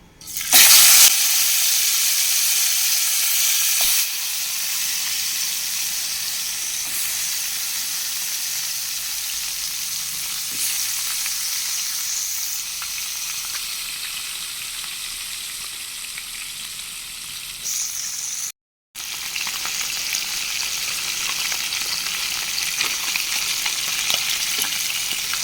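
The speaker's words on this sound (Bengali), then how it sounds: "বাদ বাকি মাছগুলো আমি এইভাবে ভেজে নেব।" Koi fish frying in hot oil, a loud, continuous crackling sizzle that holds steady for a long stretch, with a brief cut near the end before the sizzle resumes.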